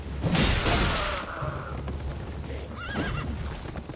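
A horse whinnies in Elden Ring, a loud wavering neigh near the start followed by a shorter second whinny near the end, over a steady game backdrop of hooves and rumble.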